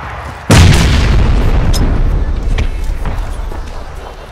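Grenade blast in PUBG: a sudden loud, close boom with a long rumbling decay, followed by scattered distant pops and gunfire, with players talking over it.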